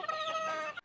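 A sweater brood hen, a gamefowl hen, gives one drawn-out, tonal cluck-like call lasting under a second. It is fairly quiet and stands alone before cutting off abruptly.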